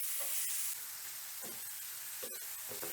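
Chopped onion gently sautéing in a pan, a soft low sizzle with a few light stirring scrapes, quiet and close.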